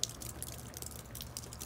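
Outdoor water faucet in a backyard during a freezing Texas winter storm with melting ice, giving soft irregular drips close by with faint hiss behind and no voices.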